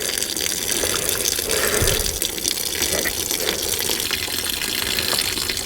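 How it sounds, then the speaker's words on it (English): Water draining out of the swing device of a Hitachi EX120-2 excavator and splashing onto the ground, a steady continuous gushing pour, close and loud, with no talking. "Maybe I should let the water go on the ground."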